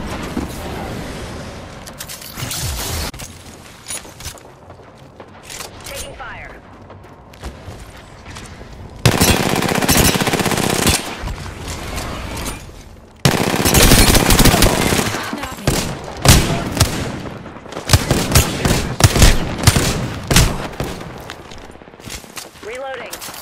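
Rapid gunfire in Apex Legends on PS4 Pro, with loud sustained automatic bursts and dense volleys that stop and restart across the stretch, close and harsh, with some game voice callouts between.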